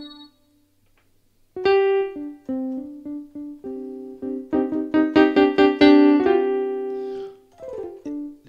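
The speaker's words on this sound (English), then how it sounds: "So what you hear now is the keyboard itself," A Yamaha PSS-A50 small electronic keyboard plays a series of clean, synthetic tones, single notes and then quicker repeated chords, close and clear with no other sound.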